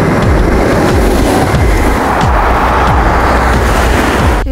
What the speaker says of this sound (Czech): jdeme na moje oblíbené místo, kde ráda fotím vlaky Eurocity